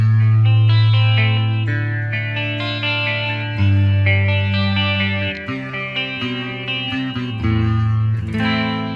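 A cheap Gibson-style electric guitar using both pickups plays distorted sustained chords and bends, washed in chorus and echo, loud and continuous with no voices.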